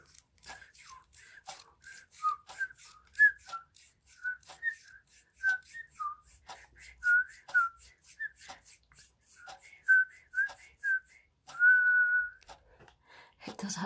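A Melody Pop candy whistle, the ring-shaped childhood sweet, whistles a string of short, bright, breathy notes in an irregular melodic rhythm, close and fairly soft, ending in one longer held tone.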